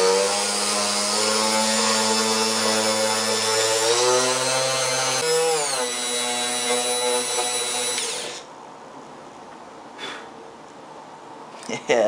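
A 4.5 inch hole saw on a drill cuts through the steel of an Antec 1200 PC case, whining loudly and steadily for about eight seconds with shifts in pitch, then stops, leaving a few faint clicks.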